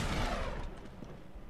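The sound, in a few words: grenade explosion, from the video game Uncharted 3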